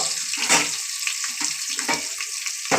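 Sliced onions sizzle and fry in hot oil in a pan for vegetable pulao, a steady bright crackle with a few louder sputters near the start and the end, close by, with no talking.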